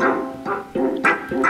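Greater Dog in the video game Undertale barks four times in a quick, even rhythm, each bark short, close and fairly loud, with nothing else heard.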